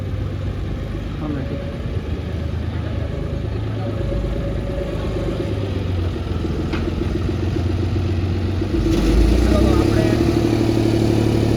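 A mid-pitched engine rumbles steadily nearby, growing slightly louder toward the end as it approaches, with voices talking over it.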